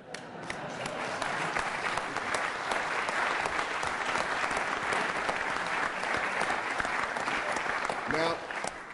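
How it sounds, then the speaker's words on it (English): An audience at a political talk on federalism and state sovereignty breaks into loud, sustained applause, a thick even roar of clapping that holds for several seconds, with voices mixed in before it thins at the end. "you know that it's good to get a round of applause like that"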